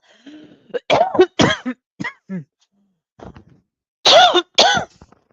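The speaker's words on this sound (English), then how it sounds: "I've got a cough." Several harsh, close coughs in quick clusters, with short pauses and a throat-clearing sound between them.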